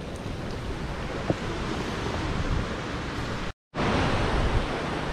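Spring water falling from the mountains on a Meghalaya trek gives a steady, loud broadband rush close to the microphone, continuous apart from a brief cut near the end.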